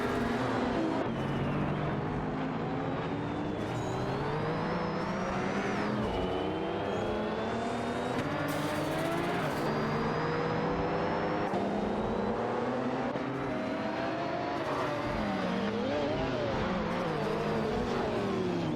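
Lamborghini Countach 5000 race cars and other racers scream around a track in a racing game. Several engines whine and rise and fall in pitch as they shift through gears, loud and continuous, with cars passing close by.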